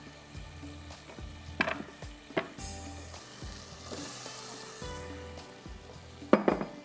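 Chunks of potato added to a pot of already tenderised meat sizzle and fry, with intermittent clinks and stirring knocks of a utensil against the pot; no talking.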